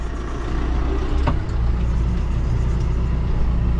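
A John Deere tractor engine runs steadily and loudly up close, a constant low diesel drone with a brief knock partway through.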